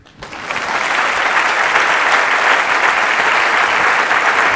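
An audience at an Italian public talk on space bursts into dense, sustained applause that swells quickly and holds steady and loud throughout.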